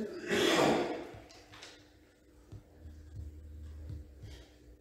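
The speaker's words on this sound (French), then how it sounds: "c'est bizarre le bruit des travaux, on dirait qu'il y a quelqu'un qui ronfle." Construction work noise that sounds like snoring: a loud, breathy snort-like burst, followed by a low, pulsing rumble that rises and falls at a moderate distance.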